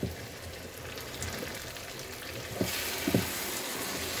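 Goat brain (bheja) frying in a masala of spiced oil with garam masala, a dense continuous sizzle and crackle, with a couple of brief soft knocks from stirring toward the end.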